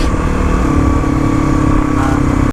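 A Kawasaki KLX351 dirt bike engine with stock exhaust revs steadily up close, a loud continuous motor drone with a sustained tone that holds throughout.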